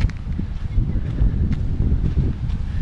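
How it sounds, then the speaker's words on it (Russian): Strong wind gusts buffet the microphone on a beach on the Bugaz spit near Blagoveshchenskaya, making a loud, continuous low rumble that swells and dips throughout with no voices. "Ребята, если сильно задувает ветер, извиняйте, стоит максимальная ветрозащита, но порывы ветра сегодня, блин, сильные, прям очень."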